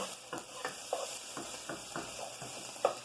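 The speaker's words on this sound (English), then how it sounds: "in my pot here, I've got caramelizing some onion" Half a yellow onion caramelizing in about four tablespoons of butter in a pot, a soft steady sizzle broken by rhythmic scraping stir strokes, close and fairly quiet.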